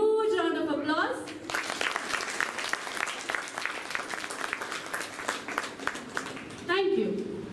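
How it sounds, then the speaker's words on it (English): A large school audience bursts into sustained applause for a children's show in Bangalore, loud dense clapping running for several seconds with a voice speaking briefly at the start and end. "let us kickstart this show with a huge round of applause"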